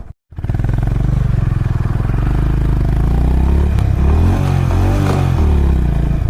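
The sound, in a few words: Honda Hyness CB350 motorcycle riding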